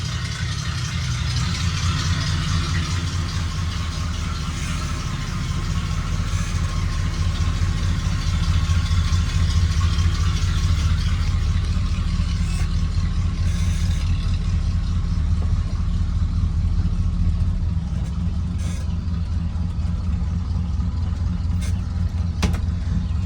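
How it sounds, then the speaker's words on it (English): A steady low rumbling idle comes from an old truck engine with a short glass pack muffler and full exhaust to the tailpipe, heard up close and continuous with slight variation, no talking. "I got a glass pack shorty on it, and the exhaust is running all the way out to the tailpipe like it's supposed to."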